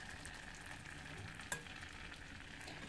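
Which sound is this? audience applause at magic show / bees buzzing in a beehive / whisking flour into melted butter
whisking flour into melted butter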